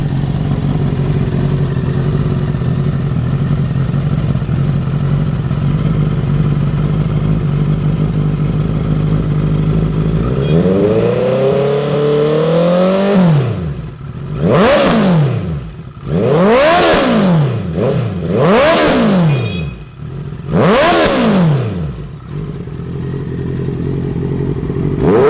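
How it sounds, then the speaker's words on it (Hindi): A 650cc sport motorcycle with an Austin Racing exhaust idles loudly, then gives about five sharp throttle revs that rise and fall in quick succession, close and with no talk. "सबसे पहले ऑस्टिन रेसिंग की आवाज़ आपको सुना देते हैं।"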